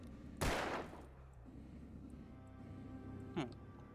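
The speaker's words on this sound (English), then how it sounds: "Firecrackers." Firecrackers go off in the video game Alan Wake: one sharp, loud bang that rings out, then a second, fainter pop a few seconds later over low background ambience.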